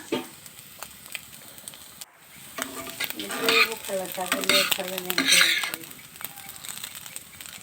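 Small fish sizzling and crackling in hot oil, with scraping and stirring noises from a utensil against the wok, fairly close and moderately loud.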